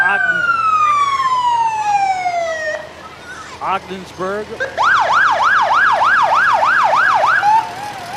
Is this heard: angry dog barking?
no